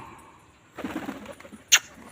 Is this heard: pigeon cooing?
yes